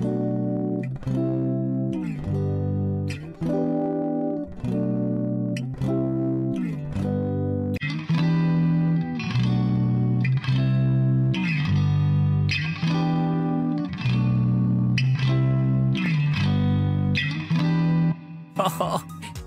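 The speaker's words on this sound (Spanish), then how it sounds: "va sonando este loop de guitarra" A guitar loop played through the Nembrini Audio Cali Reverb amplifier plugin repeats a bright, steady strummed chord pattern with ringing sustain, loud and continuous throughout.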